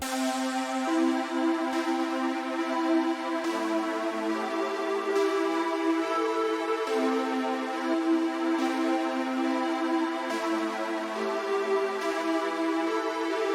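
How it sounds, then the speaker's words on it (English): Sustained synth lead melody over a steady bed of layered tones, the notes shifting every couple of seconds, continuous and full. "now you just build a synth melody that you like."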